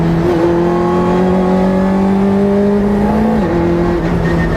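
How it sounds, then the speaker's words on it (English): Lotus Elise Sport 160 engine revving close and loud, a steady sustained tone that rises and falls slightly with throttle changes for several seconds, with no talk. "the response to that engine is perfect"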